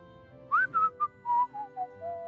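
A person whistles a short descending tune of about seven clear notes, close and alone with no talk.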